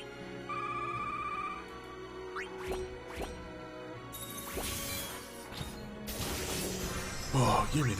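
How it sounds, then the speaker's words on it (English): A mobile phone ringing and buzzing with notification tones while a Final Fantasy Record Keeper game plays, short electronic chimes repeating at close range amid game sound effects and crashes, with someone talking over it. "I'm gonna move my phone over and turn face down because it keeps going off."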